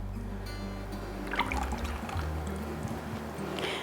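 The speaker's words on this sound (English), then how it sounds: "Then we're going to pour this into the well that we made." Whisked wet ingredients with vanilla are poured into a well of flour, a soft, close trickle and gentle liquid splashing that runs steadily for a few seconds with faint clinks of the bowl.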